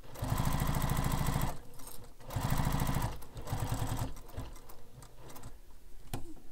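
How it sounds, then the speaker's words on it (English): A sewing machine runs in quick bursts while top stitching a carryall bag with contrasting thread, its rapid needle chatter loud and close, pausing between runs, with brief speech near the start. "you really want to have a really nice straight top stitch"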